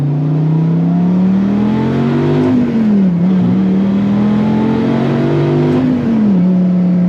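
A Dodge Viper GTS V10 engine pulls hard through the gears, a loud, close roar that climbs in pitch, dips sharply at each upshift, then climbs again, twice over.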